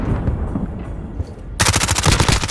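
An MP5 submachine gun fires a rapid sustained burst in a Search and Destroy video game match, loud and close, starting abruptly after a stretch of background noise.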